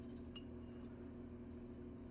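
Light metallic taps on a solid metal ring being sized up on a mandrel, a few quick clinks near the start and then quiet ringing under faint room noise.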